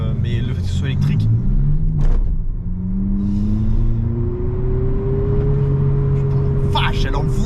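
An Abarth 500 electric car's artificial engine sound system gives a loud, steady synthetic rumble that rises in pitch as the car accelerates, with someone talking over it throughout.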